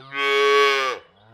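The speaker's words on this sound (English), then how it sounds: "Calf." A calf gives one loud, close moo lasting about a second, rising and then tailing off into a softer low murmur.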